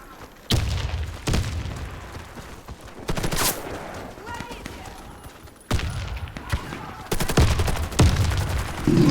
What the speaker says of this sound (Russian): Кидаю гранату!